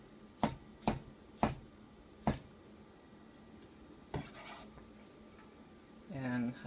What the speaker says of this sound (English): you want to cut the garlic.